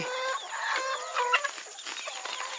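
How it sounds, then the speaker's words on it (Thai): Chickens cluck close by outdoors, a busy cluster of short, scratchy calls overlapping one another with no talk. "ไก่ครับนี่ไก่ครับพี่น้อง"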